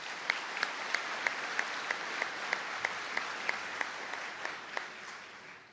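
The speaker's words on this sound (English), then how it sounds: "A round of applause, please." Applause at a Donegal college conferring ceremony: a fairly faint, steady patter of clapping from the audience, with crisp, evenly spaced sharper claps standing out above it throughout, thinning slightly at the end.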